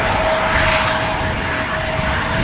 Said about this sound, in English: Now, as the 747 is making itself ready to go